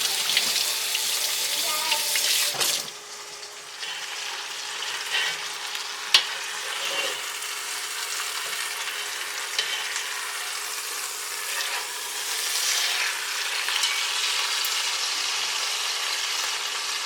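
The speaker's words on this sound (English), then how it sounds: "I'll brown the other side and then I will brown both sides of it." Meat browns in a frying pan with a steady, broadband sizzle that runs throughout, one brief dip early on and a few small clicks, with no talking over it.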